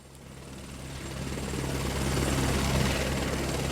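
Steady helicopter rotor and engine drone that grows gradually louder, a continuous low chopping rumble with no voices.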